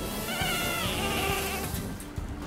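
Sheep in the video game Lumberhill bleat in short wavering calls over continuous game background noise, with the sound thinning out near the end.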